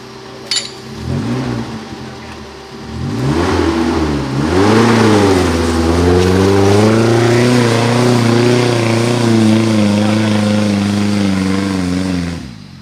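An off-road 4x4 vehicle engine revs hard in an Aceh forest in Indonesia. The close, loud pitch climbs and wavers through several surges, then holds a strained, high drone with no voices.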